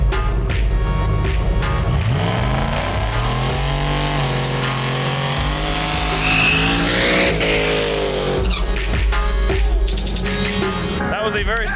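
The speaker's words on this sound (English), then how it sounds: "A very successful burnout." A drag race car does a burnout at a drag strip, its engine roaring loud and close and rising in pitch as the rear tires spin and squeal, then easing off. A commentator talks over the noise.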